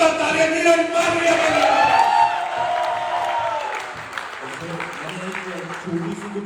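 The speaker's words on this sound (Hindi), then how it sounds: "जोरदार तालियां नीरज मानवीय" A crowd at the World Wide Dreamers third anniversary celebration in Pattaya claps loudly, with whoops and raised voices mixed in; the applause fades over the last few seconds as voices carry on.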